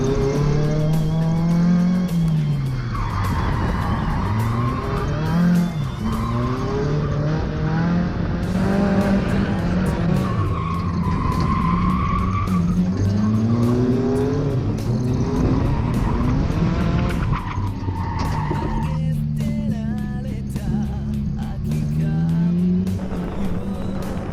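A car drifts around a track using the handbrake, tires squealing in repeated long wails as the engine revs rise and fall between slides, loud and continuous throughout.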